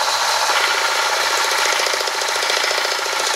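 An opal stone being ground on a lapidary wheel: a loud, steady buzzing whir with a fast pulsing rattle, continuous and close, with no voices.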